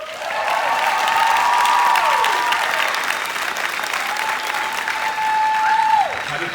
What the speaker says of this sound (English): Let's give an incredible round of applause for the maestros of tonight, Scott Beck and Brian Woods.